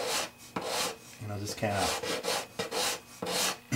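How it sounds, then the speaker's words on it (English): Hand sanding of a guitar with a small sanding block faced with 220 and 320 grit, a close rhythmic rasping of back-and-forth strokes while someone speaks briefly. "it's just a small sanding block I made up. I got 220 on the one side and 320 on the other."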